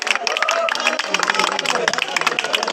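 An audience at an award ceremony gives quick, crowded applause as a prize is handed out, with the clapping sounding fairly close under a layer of voices.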